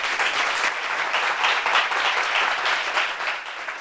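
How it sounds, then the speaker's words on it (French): A studio audience applauds a guest, a dense, steady wash of clapping that holds evenly for a few seconds with no speech over it. "Applaudissements pour elle."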